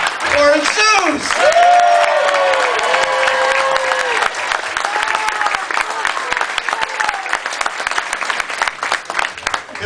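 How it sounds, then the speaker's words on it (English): Audience applause and cheering for a performer named Zeus at a charity show, a dense wash of clapping that fades slowly, with a voice talking over its first seconds. "Well, ladies and gentlemen, a round of applause. Ladies and gentlemen, a round of applause for Zeus."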